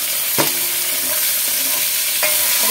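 Tomatoes and capsicum go into hot oil in a pan, giving a loud, continuous sizzle, with sharp crackling bursts as pieces hit the oil and a couple of spatula scrapes.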